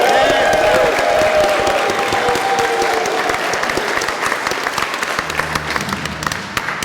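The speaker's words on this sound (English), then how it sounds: "can I get a round of applause for my beautiful wife?" Wedding guests break into loud, sustained applause that fills the reception room, a dense steady wash of clapping with a few cheers, easing slightly toward the end.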